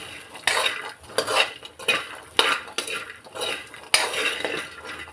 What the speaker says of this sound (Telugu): ఇప్పుడు నిమ్మకాయ రసం వేసుకున్నాం కదా, కలుపుకుందాం.